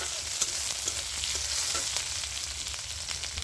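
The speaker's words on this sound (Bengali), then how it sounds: "পেঁয়াজটা দিয়ে আমি ভালো করে ভেজে নেব।" Chopped onion fries in a pan over bay leaf and five-spice tempering, sending up a steady close sizzle with scattered pops and spoon scrapes as it is stirred, no voices present.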